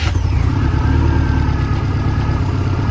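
A Subaru EJ25-engined 818 with a wastegate exhaust pulls away on its first test drive, its engine note steady and loud up close with a deep rumble and faint clatter throughout.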